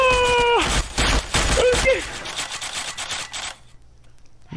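Gunfire in a video game: a flurry of sharp close shots cracks over game tones and electronic whines, fading out into quiet after a few seconds.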